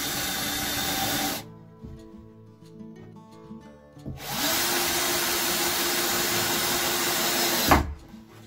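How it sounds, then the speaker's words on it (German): A cordless screwdriver whirs in two sustained bursts, driving 35 mm quick-fit screws up into a wooden strip on a wall cabinet in a camper van build, with a quieter pause between runs. "Die verschraube ich auch wieder einfach mit 35 mm Schnellschrauben."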